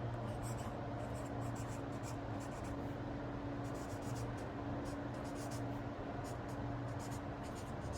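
Zebra Mildliner fluorescent highlighter marker writing on paper, a soft steady scratching of felt tip strokes repeating close up over a low background hum.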